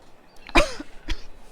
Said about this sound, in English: I'm giving you some honey to try to soothe your cough.